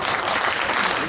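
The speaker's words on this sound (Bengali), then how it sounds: "হাততালি দিলেন।" Audience applause at a Basanta Utsav spring festival event of a fine arts school, dense steady clapping from a crowd filling the whole moment, loud and continuous without a break.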